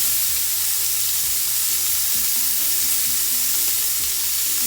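Food sizzles and caramelizes on a hot surface for homemade hibachi, a dense, steady hiss of frying with faint stirring underneath, continuous and close with no talking.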